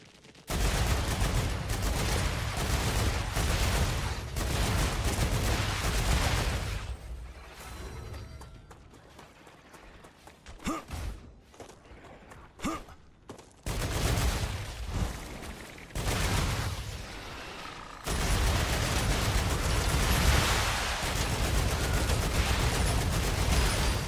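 Dense bursts of automated turret gunfire in the sci-fi video game StarRupture, loud sustained volleys broken by a sparser stretch of scattered shots in the middle before heavy firing resumes.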